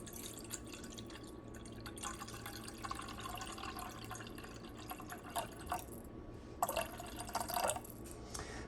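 Tap water runs and trickles into a cooking pot, a faint, steady pour with a few brighter splashy spurts near the end, quiet and alone.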